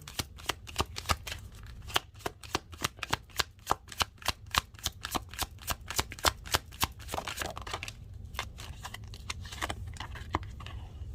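Tarot cards shuffled and drawn by hand, a rapid run of crisp riffling snaps and slaps that thins out and settles into softer, sparser flicks toward the end, close and clear with no talking.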